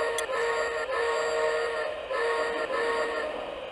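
Lionel Santa Fe Hudson model train whistle blowing in one sustained, steady tone of nearly four seconds, close and fairly quiet, with two brief dips but no talk.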